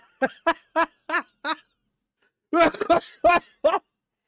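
Two bursts of rough, throaty coughing, a short rapid series of hacks, a pause, then a denser cluster of harsh coughs, close and fairly loud.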